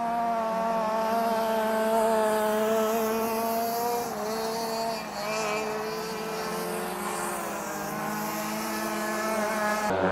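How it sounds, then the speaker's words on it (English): Motorbikes race around a dirt speedway track in Katherine, Australia, their engines producing a sustained, loud, droning whine with shifting pitch as they sweep through the curves, continuous for the whole stretch. "another couple of motorbikes are racing in the track"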